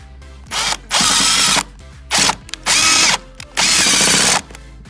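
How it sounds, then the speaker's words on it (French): Power drill driving screws into acacia wood deck boards: three loud whirring bursts, each rising briefly and then holding a steady whine for about a second, separated by short pauses and small clicks, close up, with no speech. "là j'ai plus qu'à visser"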